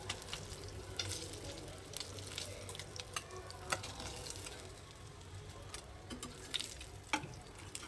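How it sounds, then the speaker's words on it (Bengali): Fish sizzles in hot oil in a pan, a steady crackling fry with scattered sharper pops and ticks throughout, fairly quiet and close, with no talking. "এই যে ভাজা হয়ে গেছে মাছগুলো, এবার আমি এগুলোকে তুলে নেব"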